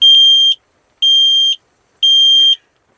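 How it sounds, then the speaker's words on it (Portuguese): A heating alarm inside a camper van sounds three loud, piercing electronic beeps, each about half a second long with equal gaps, close and harsh with no talk over it. "Começou a tocar o nosso alarme"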